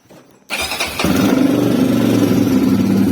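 A CSC RX3 motorcycle engine fires up with the clutch pulled in, a sudden catch followed by a steady, close, loud idle that settles into a rumble.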